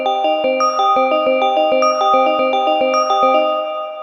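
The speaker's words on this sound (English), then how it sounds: "I'm going to use this Icy Bells preset." Icy Bells preset bell tones on a Maschine ring out in a bright, steady sequence of chiming notes with sustained overtones and regular repeated strikes, clean and alone.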